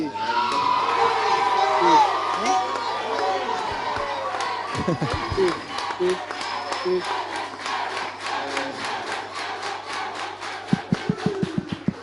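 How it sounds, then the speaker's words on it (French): A gospel contest crowd roars and cheers for a lead guitarist, shouting and whooping loudly near and far, then settling into fast rhythmic clapping in unison toward the end. "je voudrais qu'on applaudisse pour le guitariste solo là"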